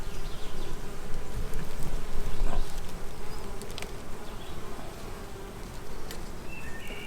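Carniolan honey bees at an open hive fill the air with a dense, continuous buzz, close and steady, with no talking.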